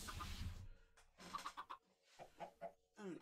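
A chicken clucks in Minecraft FTB Skies, a blocky video game, giving several short, bright clucks in quick bursts, some fairly close, with gaps of quiet and game noise between them.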